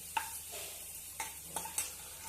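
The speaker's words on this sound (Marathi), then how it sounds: "थोडंसं आपण तेलावर परतून घेणार आहे ते हे लसूण टाकलेलं आहे" Garlic sautéing in oil in a pan before fenugreek greens go in, a low steady sizzle broken by a few clicking stirs of a spoon against the pan, with no talking.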